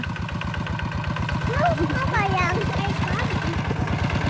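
A walking tractor engine chugs loudly and steadily with a fast, even thump at a rice farm, while a person speaks over it in Thai.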